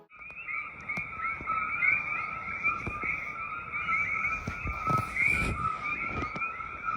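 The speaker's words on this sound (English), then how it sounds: "At night, we heard frogs and insects surrounding us." A steady, dense chorus of frogs and insects trilling continuously at night on Hawaii's Big Island, with a few louder croaks and low thumps mixed in, no voices.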